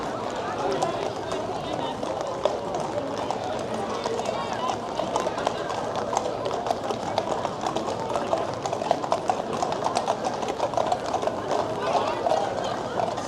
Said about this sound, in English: Full clop down Main Street.